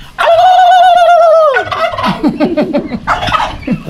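A farm turkey lets out a loud, close gobble: one long rolling call, then a quick run of shorter chattering gobbles with no talking.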